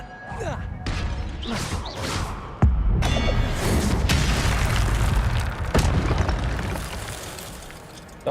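Spell blasts and explosions from the wizarding game Hogwarts Legacy: a run of sharp booms and bursts, one heavy impact near the middle and another later, over a dense rumbling bed with a player's voice calling out over it.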